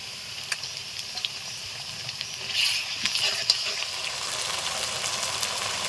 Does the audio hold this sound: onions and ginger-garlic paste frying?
yes